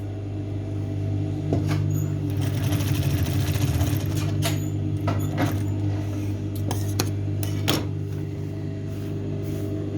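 A sewing machine running a safety seam on fabric for an accessory side pocket, a steady mechanical whir with a rapid stitching rattle in the middle and a few sharp clicks, no speech.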